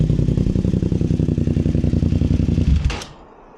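A motorcycle engine runs at a steady, loud idle after being washed, its rhythmic low pulsing continuing for about three seconds before it cuts off abruptly, leaving near silence.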